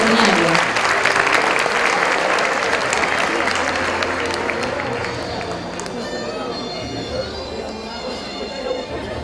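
Audience clapping for graduating students at a school graduation ceremony, loud steady applause that gradually thins and fades, with crowd chatter and shuffling underneath.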